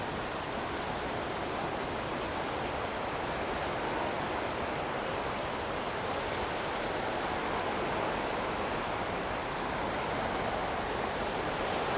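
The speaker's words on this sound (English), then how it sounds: "Little creek." A small creek in Alaska's backcountry rushes steadily as an even, full roar of flowing water, constant and close, with no voices.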